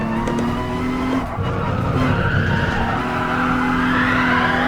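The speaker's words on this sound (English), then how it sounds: "Ah, now I understand what they mean with oversteer. Getting on the gas too quickly indeed induces it." Race car in Gran Turismo Sport oversteering with tires skidding and squealing, a steady engine drone running throughout with a brief dip partway, loud and close, no talk.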